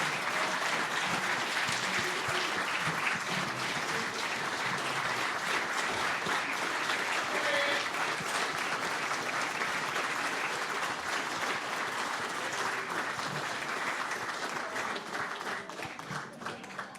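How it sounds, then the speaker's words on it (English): Steady applause from a dinner audience at a banquet event, sustained clapping filling the room for the whole stretch and tapering slightly near the end. "Let's give a big round of applause for Coach Cam Cameron."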